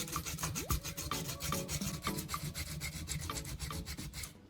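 Metal contacts on a cordless drill battery scrubbed clean in quick back-and-forth rasping strokes, a steady rhythmic scratching close up, with no speech.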